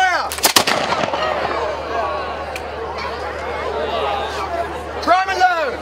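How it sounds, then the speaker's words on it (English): Reenactors fire a volley of muskets outdoors at a pirate weekend, a sharp cluster of loud bangs at the start followed by echoing crowd chatter and voices. "Now we are about to fire the muskets. It will be a little bit of a loud bang."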